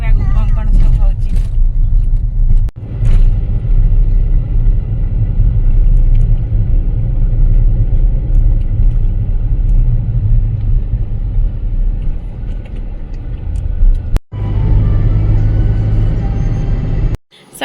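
Car driving along a road on the way to a Shani fair celebration, a steady low engine and road rumble running throughout, fairly loud, with brief bumps and a short break near the end.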